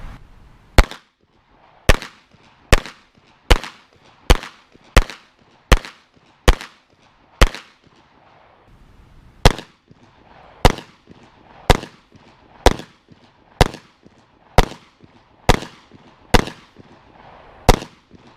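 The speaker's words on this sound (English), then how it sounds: "I'll go back 10 yards, and again I'll shoot the target on your left with the 9 and the target on your right with the .40." Rapid pistol fire from 9mm and .40 S&W handguns at 10 yards, a string of sharp, loud, evenly spaced shots with a short pause midway before the steady volley resumes.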